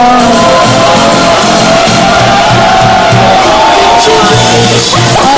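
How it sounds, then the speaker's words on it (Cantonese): A loud crowd cheers, whoops and shouts at an award moment after a tofu-rice eating contest. The roar is steady and close, with no clear gaps. "掌聲頒獎先啊！"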